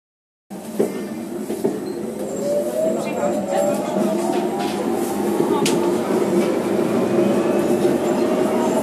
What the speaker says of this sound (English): And now we go on the next tram.